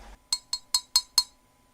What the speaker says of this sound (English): Glass clinking glass.